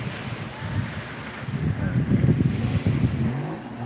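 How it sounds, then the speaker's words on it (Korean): A motor boat runs off Naksan beach, its low droning rumble rising and swelling in the middle amid wind and surf noise, moderately close. "모타 보트"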